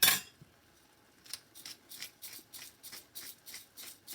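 Fresh black pepper cracked from a hand pepper mill over buttered ramen noodles, a run of seven or so short, crisp grinding bursts in a steady rhythm, close by and fairly quiet.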